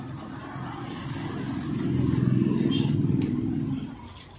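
A Bajaj Pulsar 125 BS6 motorcycle engine, converted to a carburettor, starts and settles into a slow, steady low idle close by, the rumble swelling briefly in the middle before easing off.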